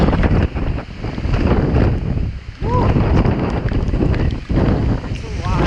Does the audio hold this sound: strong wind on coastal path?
yes